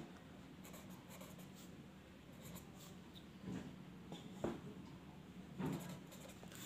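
Faint, scratchy strokes and small taps of writing on a board during a compound interest math lesson form a quiet, irregular pattern with no talking.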